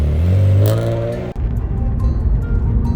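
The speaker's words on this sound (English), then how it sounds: "Judging by the way he's been revving up his car along these roads, everything is working sweet." Mitsubishi FTO GPX engine revving loudly nearby, a strong rising whine that drops sharply, then settles into a steady rumbling idle.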